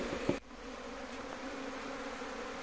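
Indian honey bees (Apis cerana indica) buzz steadily around a hive box during colony setup in Mandi, Himachal Pradesh: a continuous close swarm drone with a brief louder knock near the start.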